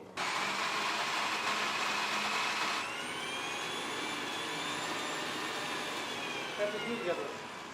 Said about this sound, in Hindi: इसको अच्छा सा क्रैशिंग मिक्सर में क्रैश कर लेते हैं